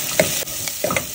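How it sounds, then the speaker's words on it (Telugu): Onions sizzle in a pan for drumstick leaves dal while a utensil stirs them, giving a close, steady frying hiss broken by a few scraping clinks. "ఆనియన్స్ ఫ్రై చేసుకున్నాను."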